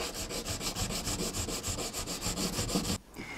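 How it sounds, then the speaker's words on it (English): Rapid, steady back-and-forth rubbing of wet-and-dry sandpaper on gel coat of a carbon fiber car bonnet mould, close up, about six strokes a second, then it abruptly stops. "then we can start wet sanding and flatting"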